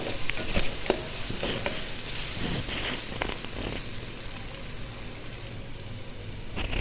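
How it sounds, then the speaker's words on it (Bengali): Sliced onions and chilies fry in oil in a pan with a dense, crackling sizzle, broken by scattered scrapes and taps of stirring throughout; no voices. "এখন পেঁয়াজ মরিচটা ভালো করে ভেজে নেব"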